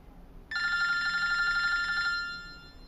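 A BlackBerry Bold rings with an incoming call, its electronic ringer sounding one steady trilling burst of about a second and a half, clear and close, then stopping in a quiet room.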